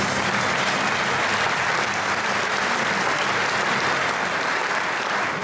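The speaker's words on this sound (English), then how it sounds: "Let's give him a round of applause." An audience gives a round of applause at a software product presentation, a dense, even wash of clapping held at steady volume from start to finish with no speech.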